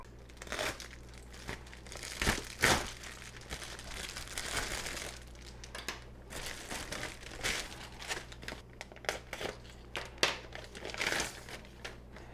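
A crinkly mail envelope holding a small delivered package is torn open and handled, giving close, irregular crumpling and crackling bursts with brief pauses over a faint steady hum.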